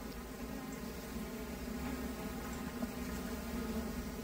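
A dense, steady hum of many honeybees buzzing close by in a full 10-frame hive box, continuous and unbroken with no voices.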